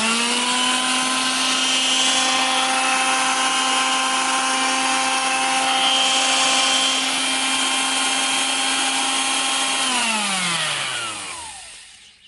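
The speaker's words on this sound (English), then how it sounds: "the sander's on, and we'll switch it on" An electric sander switched on through a pump electrics panel, running steadily as a loud, constant motor whine with a sustained tone for about ten seconds before spinning down to silence.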